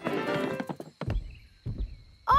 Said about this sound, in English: I can hear footsteps.